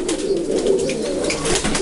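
Pigeon cooing among breeding pigeons in Guanabacoa, a steady low throaty coo running continuously and fairly loud, close by.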